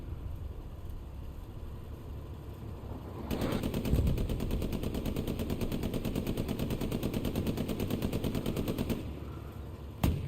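Tank and machine-gun fire in the Hell Let Loose war game: a rapid, steady stream of automatic shots rattles for several seconds before cutting off, with one sharp report near the end.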